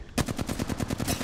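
Rapid automatic gunfire in Apex Legends: a tight burst of roughly a dozen evenly spaced shots, loud and close, with no voices over it.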